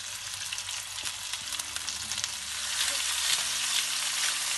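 Turkey roast being seared in oil and butter in a pot, a steady close crackling sizzle with scattered pops that grows a little louder partway through, no voices.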